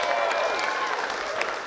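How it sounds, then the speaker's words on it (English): Audience applause at a live comedy show, a dense steady wash of clapping from a crowd filling the whole moment with a few brighter peaks. "can we get a round of applause to Chris Fleming on his Emmy-nominated special?"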